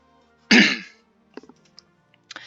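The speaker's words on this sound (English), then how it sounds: "I hate coughing down the mic at you" A single sharp cough right into a microphone comes from someone with a sore throat, then a few small throat clicks and breaths in otherwise quiet surroundings.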